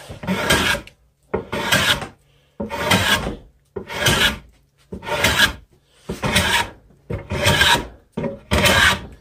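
A rasp files wood in eight steady rough strokes with brief pauses between, each scrape loud and gritty, with a slight catch partway through some strokes where it hits a knot.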